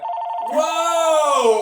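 An old-style telephone bell rings with a bright metallic trill, starting abruptly and holding loud and close for a couple of seconds.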